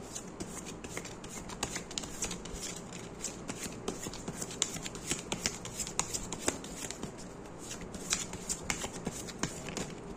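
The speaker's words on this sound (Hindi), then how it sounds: "ओके, मैं इसके लिए एक और कार्ड निकालना चाहूंगी।" Tarot cards being shuffled and drawn from a deck, a close, steady run of soft riffling and flicking card sounds in a quiet room with occasional speech.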